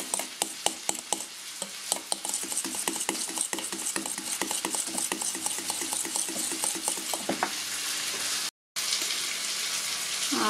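A spoon stirs lemon juice or vinegar into a pot of beef soup with green beans, with repeated clinks and scraping against the pot over a steady sizzling bubble, close and clear with no talking.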